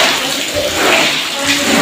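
A hose sprays water onto a carpet standing upright for washing, making a steady, close, broadband hiss and splash that runs without a break.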